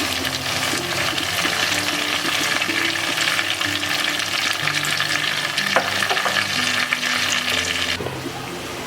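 A spice paste of ginger, garlic, onion and green chili fries in a pan for mango chicken, giving a loud continuous sizzle with stirring scrapes throughout. No one speaks.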